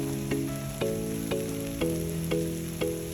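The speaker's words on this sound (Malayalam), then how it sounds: "ഇനി നമുക്ക് തക്കാളി ചേർക്കാം. ഇതും നന്നായിട്ട് വഴറ്റുക." Tomatoes sautéing in a pan for chicken curry, a constant close sizzle broken by regular scraping strokes of a spoon about every half second.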